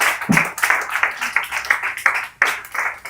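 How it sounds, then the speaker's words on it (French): Rhythmic clapping from a gathered audience welcoming a guest speaker at a parents' assembly, a series of fairly close, pulsing claps in loose unison with brief gaps. "avec vos acclamations, on va l'accueillir"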